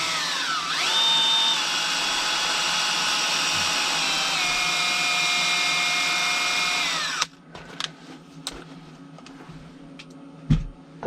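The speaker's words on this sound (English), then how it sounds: "you take your drill and you put it right on the threads, just a little snug, and you take your Scotch-Brite pad and you just squeeze it around there" A handheld drill spins threaded rod for a homemade suspension link while a Scotch-Brite pad is squeezed around the threads, a steady close whirring hum for about seven seconds that then stops, followed by small clicks and handling sounds.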